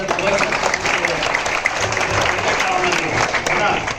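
An audience gives a dense, steady round of clapping that lasts throughout, with voices mixed in under it.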